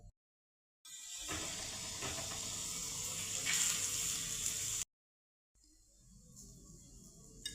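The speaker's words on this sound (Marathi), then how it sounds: "आता आपण याला भाजून घेऊया" Pumpkin flatbread (dhapata) roasting on a hot pan gives a steady, close hiss and soft sizzle that stops abruptly, then returns more quietly after a short silence.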